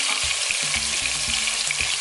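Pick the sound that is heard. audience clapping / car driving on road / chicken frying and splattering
chicken frying and splattering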